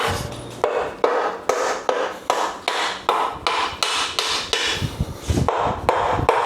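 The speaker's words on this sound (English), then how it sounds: "I'm gonna just take my weighted rubber mallet" A weighted rubber mallet tapping engine parts onto alignment dowels during a VQ35HR and VR38DETT engine build, a steady series of about fourteen dull, close thuds at roughly half-second intervals, alone without talk.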